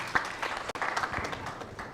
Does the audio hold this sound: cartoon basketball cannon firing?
no